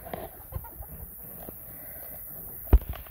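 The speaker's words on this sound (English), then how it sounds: "We let the chickens out, so they're grazing in some grass and bugs" Free-ranging chickens pecking at grass and bugs outdoors give off soft, scattered clucks at moderate distance, with one sharper, louder squawk near the end.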